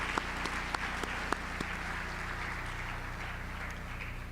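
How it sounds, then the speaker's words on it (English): Applause from an audience at a National Honor Society induction ceremony, welcoming new senior members; steady clapping throughout with a few sharper claps standing out early on, moderately distant in a large room. "So a round of applause for our new senior members."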